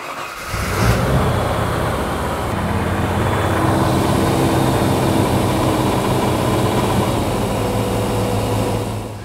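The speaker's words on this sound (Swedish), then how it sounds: "det har ju hamnat en V8 i den här bilen. Och det är det vi lyssnar på nu." A V8 engine fitted in an old Volvo car runs loud and close with a steady, rumbling idle, rising sharply at the start and holding throughout.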